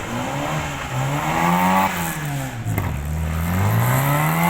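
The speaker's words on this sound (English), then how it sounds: "Keeping one hand on the handbrake at all times, keeping the revs up." A stunt car spinning on its handbrake in front of a white Mini at an outdoor show, engine held high in the revs with rising and falling wails, loud and close throughout.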